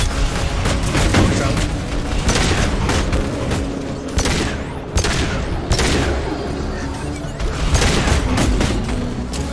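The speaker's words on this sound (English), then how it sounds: "This might actually be a good time to use guns." Dense video-game gunfire and booming blasts from a Mass Effect 2 firefight, rapid bursts layered over heavy explosions and a loud, busy battle mix, with a voice talking over parts of it.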